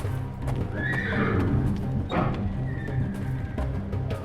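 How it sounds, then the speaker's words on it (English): Nervous horses whinny and neigh in the Secret Files 3 adventure game, with clip-clopping hooves and shuffling close by throughout, one shrill whinny standing out in the middle. "The sounds of fighting are making the horses especially nervous today."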